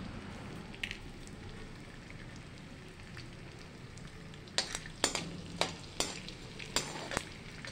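Edible gum (gond) fries in ghee with a low, steady sizzle. It then bursts into a run of sharp crackles and pops as the pieces puff up. No talking is heard.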